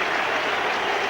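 Football crowd applauding at a Scottish league match as striker Ally McCoist leaves the pitch, a dense, steady wash of distant clapping and cheering with no pause.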